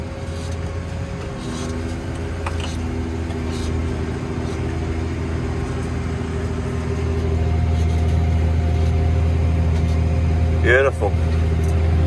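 A New Holland tractor reversing and then driving forward, a steady low diesel engine drone from the cab that grows slightly louder partway through, with a brief squeaky tone near the end and light talk.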